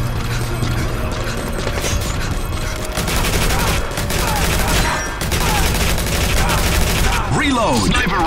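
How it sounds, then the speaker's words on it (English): Sustained machine-gun fire blasts from a Metal Gear Solid V forward operating base fight, dense rapid bursts running nearly the whole time, with mechanical clatter and a crash near the end. "Machine gun."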